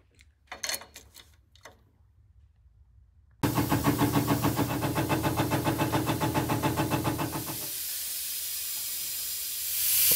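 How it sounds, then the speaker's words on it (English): Shop air hose connected to an LMTV military truck hisses loudly as it fills the air tanks, a strong steady rush with rhythmic pulsing that eases into a softer hiss, after a few quiet knocks at the start. "To try to get air into the system, gonna hook up the shop air to the truck,"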